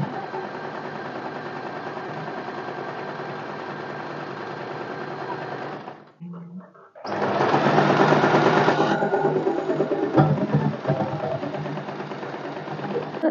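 A sewing machine runs at a steady hum while stitching a seam on a garment being fitted, stops for about a second, then restarts louder and keeps running to the end, close up with no talk.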